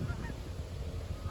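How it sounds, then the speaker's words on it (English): Canada geese honk faintly in the distance at Malone Rec Park in Malone, New York, low and soft calls buried in a steady outdoor rumble. "there's only a dozen Canada geese that remain"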